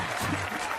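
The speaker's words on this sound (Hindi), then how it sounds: "तालियां बजाओ।" A crowd claps and applauds in a dense, steady patter for a brief moment, with no gaps or rhythm.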